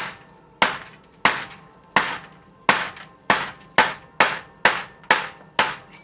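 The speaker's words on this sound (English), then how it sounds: "If I can tap one of them loose, because this is just the back of the piston, right through this hole." Hammer tapping on the back of a transmission piston through a hole to knock it loose, nine sharp metallic strikes at an even pace, each with a short ringing decay.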